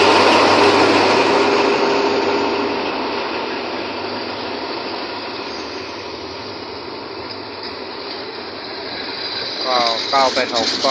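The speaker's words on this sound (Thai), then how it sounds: "กำลังจะเคลื่อนตัว ผ่านประแจด้านเหนือ นะครับ" Train number 986 starts moving over the north switch, giving a loud, continuous rumbling clatter of wheels on track. Someone talks over it, and a rattling ratchet-like clicking comes near the end.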